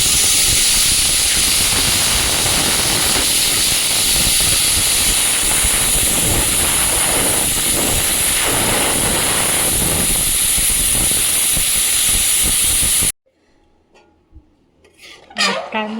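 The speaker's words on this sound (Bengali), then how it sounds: "দেখা যাক কটা সিটি দিয়ে দিই তারপর লাস্টে একটা আলু দিয়ে একটাই সিটি দেব" A pressure cooker vents a loud, steady hiss of steam while meat cooks, holding continuously for about thirteen seconds before cutting off abruptly into quiet kitchen clatter.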